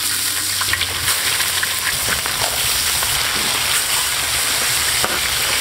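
Crucian carp sizzles in hot oil in a wok, a loud, steady frying hiss with scattered pops and crackles throughout.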